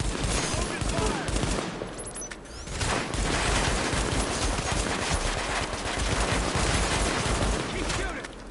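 Sustained gunfire in the video game Tom Clancy's The Division, dense rapid bursts of shots loud and continuous across the whole stretch, with a brief lull in the middle before the firing resumes.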